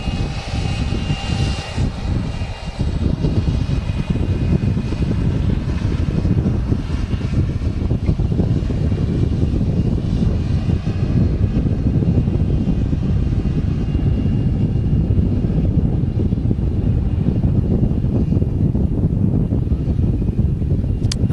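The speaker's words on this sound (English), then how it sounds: "Got the Emirates A380 taxiing out there." Emirates Airbus A380 taxiing at Manchester Airport, a loud continuous jet engine roar with heavy wind buffeting on the microphone, steady throughout with no talking.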